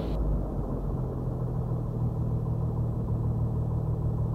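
A Piper Comanche 250 aircraft engine idling on the ground, a steady, close, low rumbling drone with no change in pace throughout.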